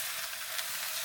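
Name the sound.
leeks sizzling in olive oil in a pan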